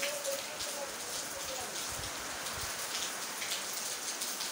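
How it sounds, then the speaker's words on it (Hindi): Heavy rain pouring on the city of Allahabad, a dense, constant roaring hiss of downpour close by that fills the whole stretch evenly. "ये देखें दोस्तों बड़ी तेज़ हो गई है बारिश, बहुत ही यानी कि तेज़ हो चुकी है बारिश"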